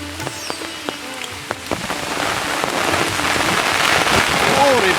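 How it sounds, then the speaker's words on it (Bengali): Strong wind and rain during a whirlwind storm, heard while picking mangoes outdoors, a steady wash of rain that grows louder and denser toward the end, with scattered sharp drops and a voice briefly audible. "তীব্র বাতাস, বৃষ্টি।"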